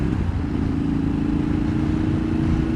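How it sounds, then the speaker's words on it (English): Motorcycle engine idling steadily with a dB killer fitted in the exhaust, a close, continuous low rumble with faint irregular popping and no speech. "a little less popping when the throttle's closed"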